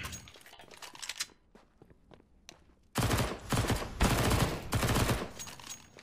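Pump shotgun blasts and other gunfire in the shooter game CS:GO: sparse sharp shots at first, then a dense, loud barrage of overlapping bangs and crunching impacts with no talking.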